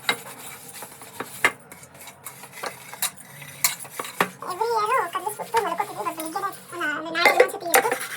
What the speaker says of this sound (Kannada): ಆ್ಯಕ್ಚುಲಿ ಇವಾಗ ಪಾತ್ರೆ ತೊಳಿತಾ ಇದ್ದೀನಿ. ಬೇಜಾನಿದೆ ಪಾತ್ರೆ.